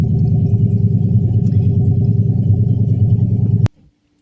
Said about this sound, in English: It's the first time Mr. Buddha's heard the truck